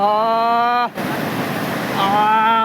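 Floodwater after heavy rain rushes loudly past for about a second on a damaged road near Mahuva, set between a man's drawn-out exclamations.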